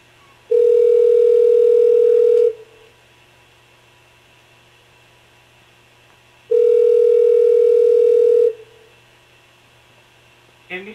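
Steady telephone dial tone heard during a phone call, sounding in two long bursts of about two seconds each, separated by a quiet gap with faint background hum; no talking in between.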